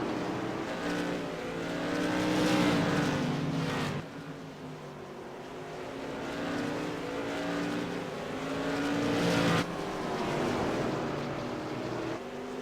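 Modified race cars circle Irwindale Speedway in a CRA Modified Madness Tour race, their engines roaring loud and continuous with harmonic drone rising and falling as cars pass, a sharp pass-by swell around the middle and another near the end.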